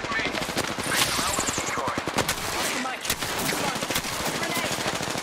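Rapid gunfire crackles nonstop in Apex Legends, dense bursts of close shots layered with distant pops and clatter, loud and continuous throughout with voices mixed underneath.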